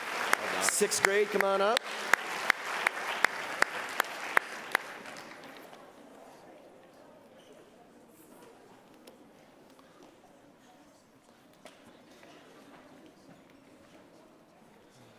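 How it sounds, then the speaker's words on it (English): A school academic bowl audience gives a short round of applause, clapping that fades within a few seconds, followed by quieter room noise with a voice speaking over it. "Give them a round of applause."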